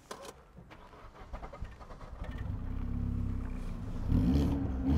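A car with a six-speed gearbox and a downpipe-and-cats exhaust cranks and fires up. It starts as a low rumble and builds into a steady, fairly subdued idle with a brief rise in revs near the end.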